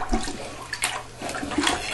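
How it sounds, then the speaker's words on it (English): A plunger pushes water out of a toilet bowl during a toilet floor repair: wet sloshing and splashing come in irregular close bursts, with no voices. "we're going to take our plunger and get as much water out of the bowl itself"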